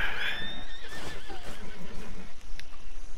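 A horse in the video game Red Dead Online gives a loud, close whinny that starts high and falls away, with some hoof clip-clop and rustling after it.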